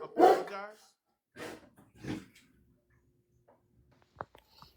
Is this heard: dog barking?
yes